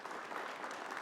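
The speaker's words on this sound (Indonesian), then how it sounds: "Tepuk tangan." Applause rises from the audience at a population data summit, a steady patter of many hands clapping, faint and distant but continuous throughout.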